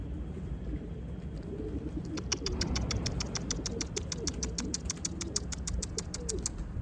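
Soft bird coos and calls against a steady low rumble of background noise, with a fast series of sharp clicking or chirping taps running through the middle.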